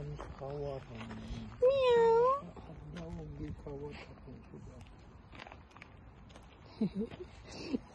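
A cat meows several times, drawn-out and wavering, with one loud close cry, while a person talks softly in between.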